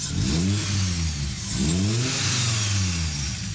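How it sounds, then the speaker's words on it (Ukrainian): A car engine is started and revved twice in strong rising and falling surges, loud and close, with no talk over it. "Заводим двигунця!"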